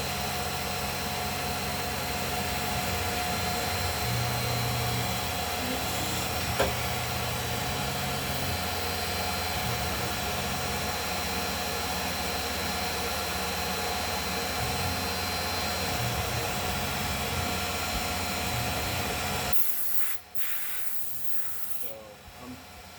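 A CNC mill chamfering small drilled holes gives a continuous high-pitched machining whine and hiss that drones steadily for a long stretch, then cuts off abruptly, leaving quieter room noise.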